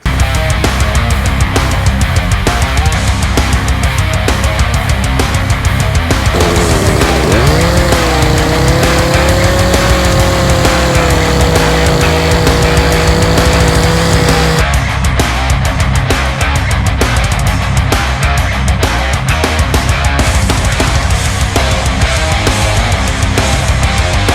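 A chainsaw cuts a wooden strongman log, a loud, continuous buzzing whine with a steadier, lower-pitched stretch where the blade bites into the wood before returning to a harsher rattle.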